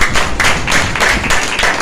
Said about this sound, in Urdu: زوردار تالیاں لگاؤ اس بات کے لیے۔